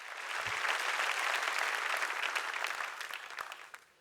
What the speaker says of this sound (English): you deserve an incredible double round of applause.